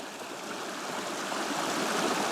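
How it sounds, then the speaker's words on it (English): Mountain creek rushing down toward a lake in Jotunheimen National Park, a steady close, full wash of flowing water that holds even and loud throughout, with no voices. "There is a nice creek coming down,"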